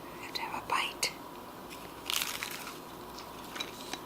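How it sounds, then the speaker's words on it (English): A bite into a crunchy fried Reuben egg roll gives a couple of crisp, close crackles, then quiet, with faint breathy mouth sounds. "Can you hear the crunch?"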